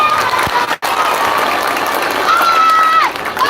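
An audience at a school Maulid Nabi event claps and cheers, loud and busy, with a brief drop partway through, while voices and a whistle-like tone mix in over the applause.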